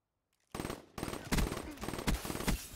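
Gunshots in a multiplayer shooter video game, rapid loud bursts of automatic fire starting after a brief silence, with several sharp heavy shots punctuating the stream.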